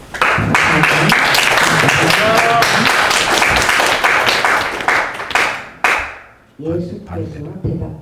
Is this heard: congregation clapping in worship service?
yes